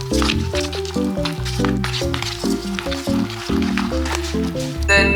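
Spicy buldak ramen noodles are stirred together with sauce, close wet squishing and slurping squelches repeating in an irregular rhythm under steady background music.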